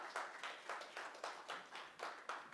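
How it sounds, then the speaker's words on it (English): Audience applause at a social housing information session for a property CEO panelist, a steady burst of clapping from a crowd lasting a few seconds with rhythmic swells. "Can we give him a round of applause?"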